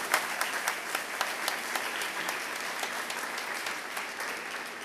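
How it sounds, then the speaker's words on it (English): Steady applause from an audience at a city marathon spirit award ceremony, many hands clapping densely and evenly for about five seconds at moderate distance with no voices over it. "let's give them another round of applause"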